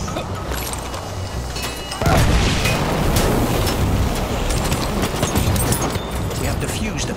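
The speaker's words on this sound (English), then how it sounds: "Artillery!" Artillery fire during a Battlefield 1 rush match: after two seconds of quieter game sound, a sudden loud boom gives way to sustained rumbling blasts and debris noise under the action.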